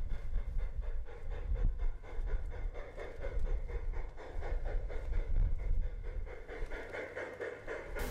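A small garden model train rumbles steadily along, with a chuffing, panting rhythm and low mechanical hum, fairly quiet and continuous.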